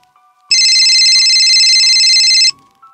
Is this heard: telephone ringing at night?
yes